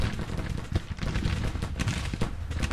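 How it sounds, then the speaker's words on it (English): Civil War cannons firing during a large battle in Grand Tactician: a rapid scatter of distant booms and cracks over a steady background rumble. "Cannons are opening up, awesome."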